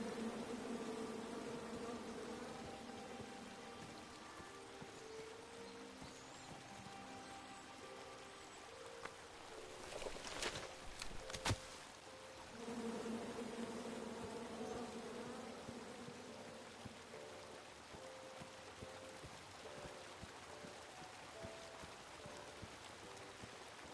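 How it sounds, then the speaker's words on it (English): Bees buzzing in the King's Quest video game, a faint continuous droning hum that swells briefly in the middle with a couple of sharp clicks, otherwise steady and quiet throughout. "Come at me, bees!"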